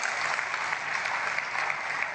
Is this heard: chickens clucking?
no